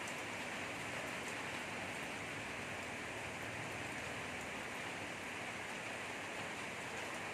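Soft, steady rain patters continuously at a distance, a faint, even hiss with no voices.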